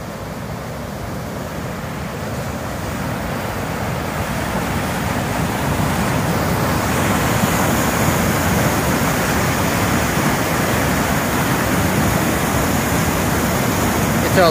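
A stream's waterfall pours continuously, a loud, steady broadband rush of falling water that swells slightly and holds without a break throughout.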